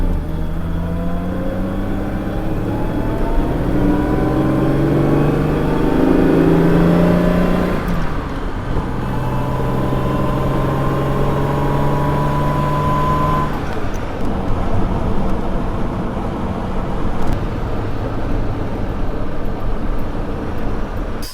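E-Type Jaguar driving on Sussex country roads, its engine revving and shifting through gears from inside the car, loud and continuous with rising pitch sweeps.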